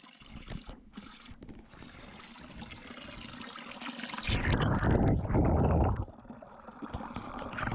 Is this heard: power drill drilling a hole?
no